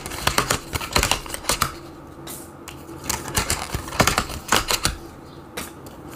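Items being peeled and pulled off a new planner, a run of close, crisp crackling and tearing bursts in uneven clusters with brief pauses, no talking.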